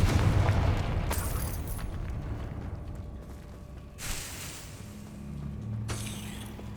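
Confringo fire spell blasts in the Hogwarts Legacy video game: a dense game mix of booming bursts with bright crackling flares near the start, around four seconds and again near six, over a continuous rumbling low background.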